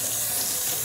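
Tap water runs while hands are rinsed at a sink, a brief, steady hiss of flowing water close by with no speech.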